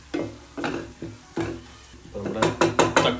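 A spoon scrapes and clanks against a pot while curry is stirred, about a dozen uneven metallic strokes, quicker toward the end, close by.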